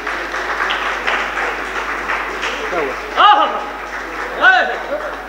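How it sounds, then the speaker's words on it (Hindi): An audience at a Hindi poetry gathering in Kashi claps continuously, a dense crowd of applause under someone speaking over it. "इनके सम्मान में जोरदार तालियां"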